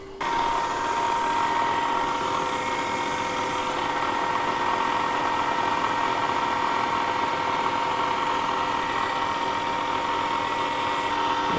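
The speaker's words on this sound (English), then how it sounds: "Now this is a carbide 4-flute end mill." A milling machine runs a carbide 4-flute end mill at 2000 RPM during a DIY way alignment tool build, giving a steady, loud, continuous high whine with tonal hum that holds unchanged throughout, with mist coolant in use.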